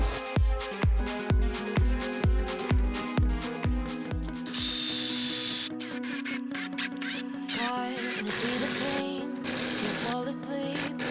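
A power drill drives screws into a wooden full-size bedframe, first as a run of rhythmic ratcheting pulses, then a sustained whir, loud and close with music playing beneath.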